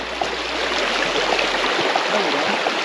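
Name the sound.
babbling brook flowing by the road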